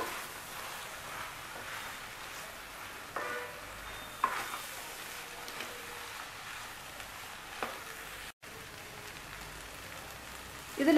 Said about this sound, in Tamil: இப்போ இதை வதக்கிடலாம்.